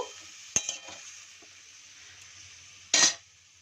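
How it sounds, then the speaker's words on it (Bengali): Chicken sautéing in a pan with ginger, garlic and spices gives a soft, steady sizzle, broken by two sharp clanks of a utensil against the pan. "তো চিকেনটা দিয়ে খুব ভালো করে কষিয়ে নেব।"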